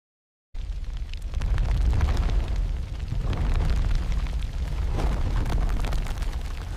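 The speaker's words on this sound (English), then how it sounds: "The impact unleashed a force greater than thousands of nuclear bombs." Explosion effect for the asteroid impact that wiped out the dinosaurs, a sudden deep boom after a brief silence that swells into a sustained loud rumbling roar.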